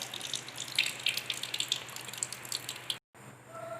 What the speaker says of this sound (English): So after the boiling is done, I will cool it under tap water.